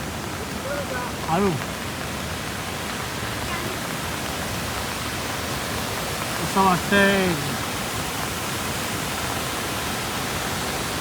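Steady, dense rushing of heavy monsoon rain at Manche waterfall fills the whole stretch, with brief voices speaking over the downpour at two moments.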